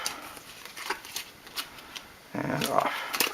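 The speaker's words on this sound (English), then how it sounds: "Shuffle these up." A deck of game cards being shuffled on a table, a short close riffle of crisp flutters and slaps near the end after quieter handling sounds.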